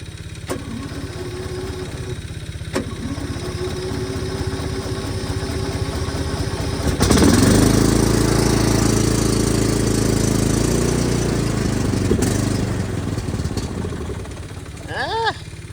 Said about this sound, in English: we'll see if the old Cub Cadet will fire up in the cold weather